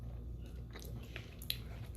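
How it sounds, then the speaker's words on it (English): Someone bites into and chews crunchy Pizza Hut cinnamon rolls with icing. The close, soft crunching and mouth sounds are steady, with a sharper bite near the middle. "I like my cinnamon rolls crunchy."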